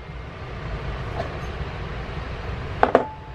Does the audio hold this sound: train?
yes